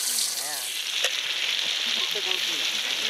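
Masala-coated murrel fish drops into hot oil and sizzles in a steady, dense crackle throughout, close and continuous, with a faint voice briefly audible underneath.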